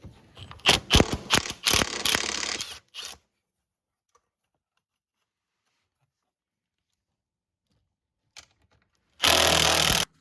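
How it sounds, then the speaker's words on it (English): A ratchet loosens the airbox bolts on a Polaris Sportsman 850 XP ATV, giving a close, loud run of rapid clicking bursts for about three seconds, then silence, then a final short ratcheting burst. "there's a bolt here, and then there's a bolt here on the other side. We're going to take both these loose."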